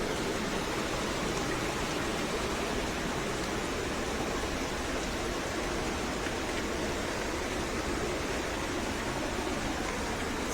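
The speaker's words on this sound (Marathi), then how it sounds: "इकडे असे नाले आहेत आणि वरतून डॅममधून पाणी येतं" Stream water flowing down from a dam through a channel, a dense, steady rushing wash close by that never lets up, with no voices over it.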